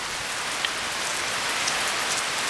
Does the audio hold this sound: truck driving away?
no